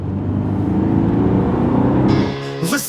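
An Aston Martin DB12 drives with a loud, close, steady engine drone, then the pitch shifts near the end as the note changes.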